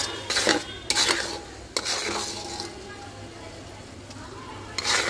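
Spice paste cooked down with peeled local garlic cloves in a pan for mango pickle, with bursts of scraping stirs and metallic clatter over a low sizzle, close by, and speech faintly present.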